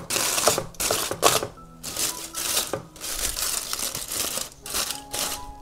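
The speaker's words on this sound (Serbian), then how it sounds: "sad ćemo ukloniti foliju" Aluminium foil being peeled off a roasted pork joint after two hours of oven roasting, a run of sharp crinkling and crumpling bursts with brief pauses, close and fairly loud with no talk.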